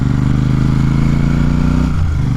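A motorcycle engine thrums loud and close as it rides a hill road in Kalvarayan hills during a summer festival, its steady low rumble shifting slightly near the end.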